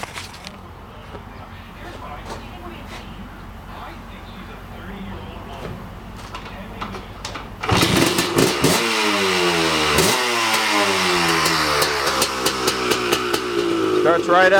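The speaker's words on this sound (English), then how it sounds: "Starts right up, first kick, no problem. Idle's fine." A motorcycle engine fires up abruptly after a quiet stretch and settles into a loud, close, steady idle with throbbing harmonics, blips of revving punctuating the run.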